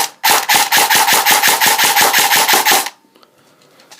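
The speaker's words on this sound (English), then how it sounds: "This is a high cap magazine, so you have to make sure you keep winding that up." A high-capacity airsoft magazine for a Colt M4 CQB is wound up, giving a fast, steady run of about a dozen loud ratcheting clicks close by, which stops abruptly and leaves near silence.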